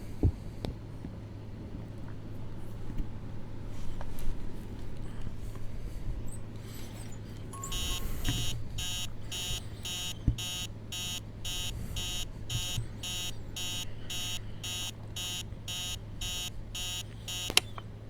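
An alarm clock rings in the horror game Emily Wants to Play Too, a rapid, regular electronic beeping that starts partway through over a low steady hum in a quiet bedroom.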